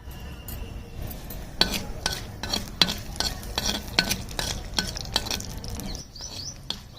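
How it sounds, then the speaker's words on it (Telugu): A spoon stirs urad dal, cumin and other spices frying in oil in a pan over a wood-fired stove, giving repeated scraping strokes over a soft, steady sizzle. "మనం ఇట్లా కలుపుకుంటుంటే పప్పులు అన్నీ కూడా చక్కగా ఒకేలాగా వేగుతాయి"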